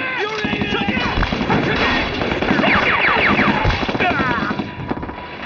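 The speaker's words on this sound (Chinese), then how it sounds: "哪里打枪？" Bursts of gunfire ring out during a Chinese TV spy drama scene, mixed with voices and clatter in a dense, busy soundtrack.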